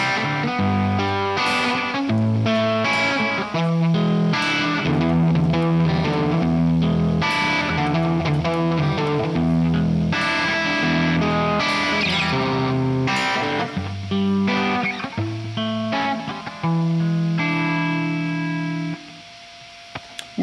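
A budget Strat-style electric guitar on its bridge pickup plays chords and riffs through a Marshall-style amp tone with extra distortion, loud and continuous for about twenty seconds before ringing out.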